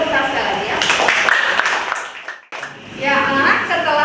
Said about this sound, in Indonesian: Tepuk sekali lagi ya